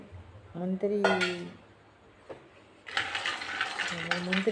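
A small pan is set down on a stove for roasting cashews, giving a few close metallic clanks and scrapes of cookware, with a rattling clatter later on and a quieter gap in between.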